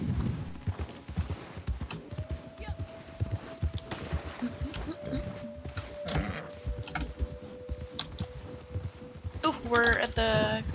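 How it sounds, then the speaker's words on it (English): Horse hooves clip-clopping at a steady, easy pace in the Western video game Red Dead Online, soft repeated thuds under game ambience with a long sustained tone and a brief clatter near the end. "My horse is just taking a good pace."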